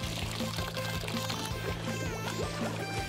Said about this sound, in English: Fill the jacuzzi with water.